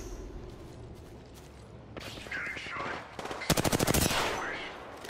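Gunfire in the Apex Legends video game: scattered single shots give way to a loud, rapid automatic burst near the end, with a sharp nearby volley standing out over game ambience.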